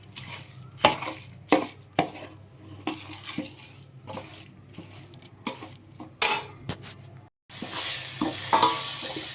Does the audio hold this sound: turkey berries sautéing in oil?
yes